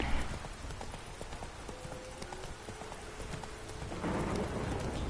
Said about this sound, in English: Hey, Geralt, aren't you going to comment on the fact that it's raining?